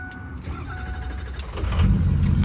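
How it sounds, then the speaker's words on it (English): A vehicle engine cold-starts on a very cold day after sitting off for about half an hour, a brief starter whir giving way to a louder rumbling idle that swells toward the end, heard close and with no talking. "I'm gonna get cold start number 2 for you guys."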